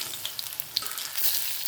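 Snake gourd kola urundai balls fry in hot oil with a close, steady sizzle and small popping crackles, briefly growing louder toward the end.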